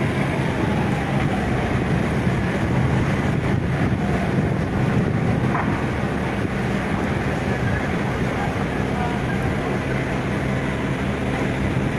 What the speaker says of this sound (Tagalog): Sinasabayan po kasi mga kaibigan ng malakas na hangin